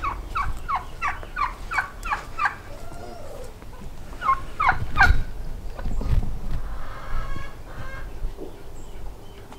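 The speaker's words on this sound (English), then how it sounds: "let's go check on the turkeys and chickens" Farmyard turkeys gobble in quick rapid bursts, a run of repeated calls followed by a few more later, with chickens around them and a low background murmur between the calls.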